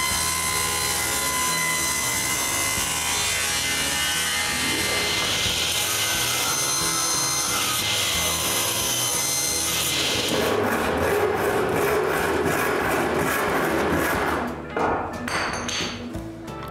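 Hand saw cutting through wood for a wooden bandsaw build, a dense continuous rasping that runs close and loud, turning brighter and harsher partway through before easing off near the end, with no talk.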